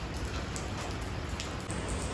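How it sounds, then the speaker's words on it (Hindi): Steady rain pours outside, a dense, even hiss of drops hitting surfaces close by, loud and unbroken. "यहाँ पे मौसम बहुत ही ज़्यादा बिगड़ चुका है, बारिश आ रही है।"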